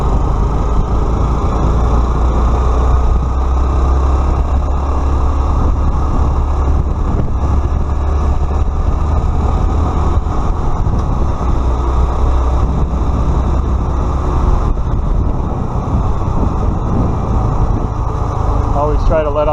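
Honda Trail motorcycle engine running at low speed with gear shifts, a steady low engine drone with wind buffeting over the microphone and someone talking over it throughout.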